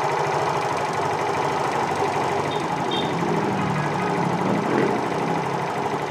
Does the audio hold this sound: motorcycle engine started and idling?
yes